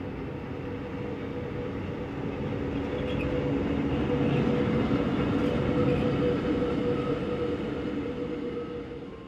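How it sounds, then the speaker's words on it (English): A train departing the station in Chur rumbles steadily, growing slightly louder then easing off, with a continuous low mechanical drone and faint wheel noise throughout. "Trains for Arosa depart from the station in Chur."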